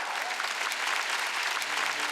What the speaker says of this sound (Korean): 박수 치면 박수 치라요.